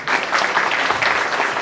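Applause from an audience at a Hindi-language contest and prize ceremony in Saramacca, Suriname, a dense steady wash of many hands clapping that carries through the whole moment without a break.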